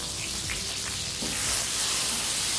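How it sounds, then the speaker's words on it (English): A tomato sizzling in hot oil in a pan, a steady frying hiss that swells slightly partway through, close and fairly quiet with no talk. "And it's gonna sizzle, okay?"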